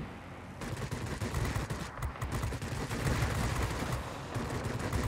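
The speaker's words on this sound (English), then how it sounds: "It's going to have the 8 Browning 303s, essentially light machine guns." A Spitfire's eight Browning .303 light machine guns fire in World of Warplanes, with sustained rapid bursts rattling continuously and close over a droning engine, broken by a brief pause.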